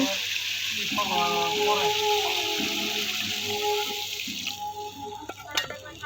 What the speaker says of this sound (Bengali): এখন আমি এটার ভিতরে